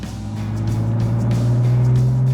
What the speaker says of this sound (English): My favourite part of the car is the engine sound.